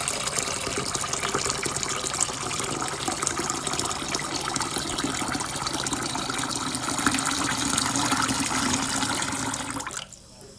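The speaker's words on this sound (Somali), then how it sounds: "ilaa ay ka soo baxaan biyo nadiif ah waa inaad dhaqdid" Tap water runs steadily over lentils being rinsed clean for a Somali lentil stew, a continuous close gushing and splashing for about ten seconds before stopping abruptly.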